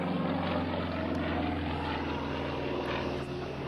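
Aerobatic propeller airplane at an air force base open house, its engine a steady droning buzz heard from a distance as it flies through a loop, with no talk.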